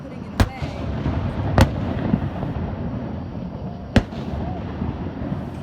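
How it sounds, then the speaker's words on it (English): Three sharp fireworks bangs burst separately across a few seconds, seen from a park, with a low, continuous background rumble between the reports. "We saw some fireworks."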